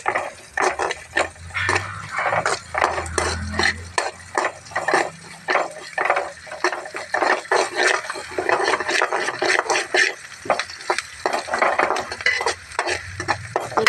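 Onions sauté in a pan with mustard seeds and lentils, a spoon scraping and stirring in quick repeated strokes over a continuous sizzle, close and fairly loud.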